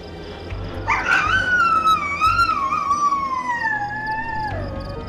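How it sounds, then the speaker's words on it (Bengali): A dog lets out a long, drawn-out mournful howl that wavers and slowly falls in pitch, heard alone and fairly close within a Bengali horror audio drama set in the Jungle Mahal forests. "একটা কুকুর দীর্ঘ প্রলম্বিত সুরে কেঁদে উঠল হঠাৎ।"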